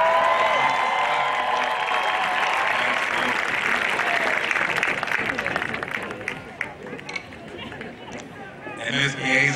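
Applause from a commencement audience at a university graduation ceremony, dense and loud at first with chatter mixed in, then thinning into scattered claps and murmuring voices toward the end.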